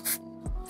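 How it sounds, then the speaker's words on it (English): 3D scanning spray hisses in a short burst onto a Nikon lens sitting on a turntable, close and loud, then a lower thump-like sound follows. "just spray it while it's on the turntable so you can see what happens."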